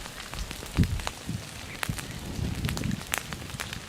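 Grass fire burning on the outskirts of Pesochnaya near Melitopol, a close, steady crackle and patter with scattered sharp pops and snaps, no voices.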